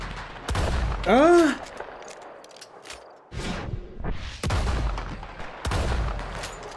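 Shotgun blasts in Red Dead Redemption 2 aimed at a California condor, several sharp, loud reports spaced over a few seconds, one followed by a swooping bird screech, amid outdoor game ambience.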